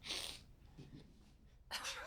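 A person sneezes, a sharp burst of breathy noise at the start and another at the end, fairly close, with faint talking in between.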